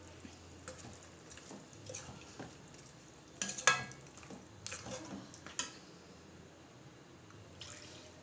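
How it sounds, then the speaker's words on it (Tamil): Coconut milk pours and drips into a gently bubbling pot of Kerala-style duck curry, with soft stirring and a faint sizzle in the background. "இப்போ நம்ம தேங்காய் பால் ஆட் பண்ணலாம்"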